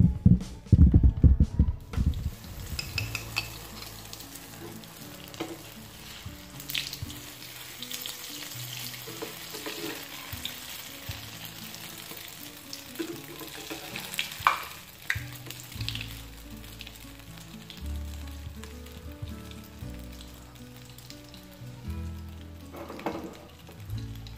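An egg frying in hot ghee, cooked in a homestyle desi way: a continuous crackling sizzle with popping spatters, loudest at the start and then settling into a steady fry, with no talking.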